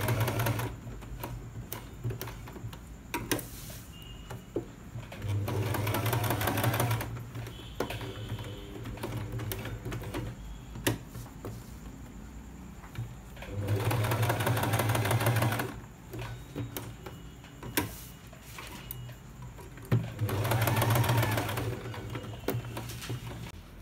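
A sewing machine stitching a patiala pant in repeated bursts of rapid mechanical clatter, each run lasting a couple of seconds with quieter pauses and handling noises between, close up.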